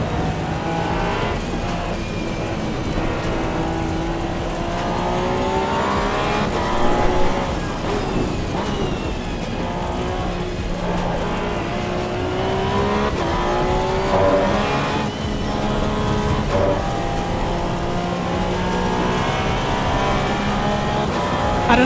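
A race car lapping the Spa circuit in the video game Assetto Corsa EVO, its engine droning loudly and steadily with rising and falling revs through gear changes and corners, continuous and close throughout.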